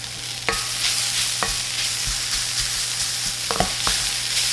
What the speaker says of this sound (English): I like to kind of toast these spices in here a bit